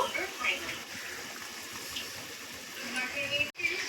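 Olive chutney bubbling in hot water in a cooking pot, giving a steady, close, gushing and bubbling wash of liquid sound throughout.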